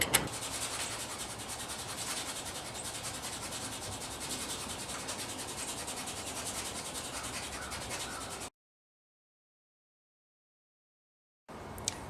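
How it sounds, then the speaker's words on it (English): Dried blueberry leaves are scraped off a steel fitting on a lacquered Japanese tanto knife, making a steady, close, dry rubbing rasp that runs for several seconds, falls silent, then briefly resumes. "steel fitting so that I can scrape all the leaves off of it"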